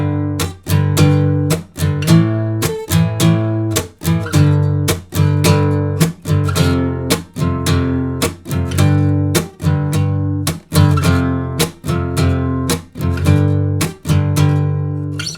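An electric guitar plays the power chord interlude from a song: loud, chugging chords struck in a steady, repeating rhythm with brief muted gaps, alone with no talking.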